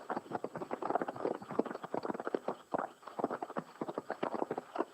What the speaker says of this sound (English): mainly we train a horse with trot exercises, like sitting trot or posting trot